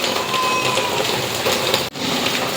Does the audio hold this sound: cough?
no